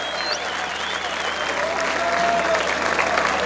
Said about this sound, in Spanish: aplauso para Don Bolo